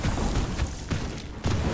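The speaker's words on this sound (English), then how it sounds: "Explosion for you." Explosions in the video game Wizard of Legend 2, a loud, continuous barrage of booming bursts that pulse in quick succession with no pause.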